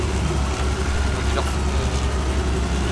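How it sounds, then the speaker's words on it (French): A vehicle engine rumbles low and steady in a WWII-era game set in France 1940, a dull continuous drone with faint wind-like noise over it. "Faites gaffe, j'entends un son de moteur."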